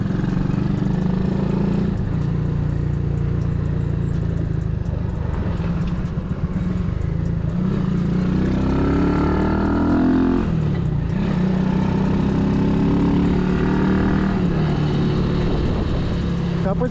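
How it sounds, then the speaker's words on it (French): A repaired Masai 50 Black Road moped engine runs on a road test, a steady buzzing drone with some rev changes, continuous and close. "On fait des essais pour s'assurer que le moteur tourne bien"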